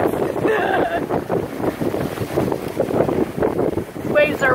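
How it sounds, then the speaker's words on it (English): Waves roll onto the beach at Boca Grande, Florida, under strong gusting wind that buffets the microphone, a steady rushing wash with no break. "so you can see the waves coming in"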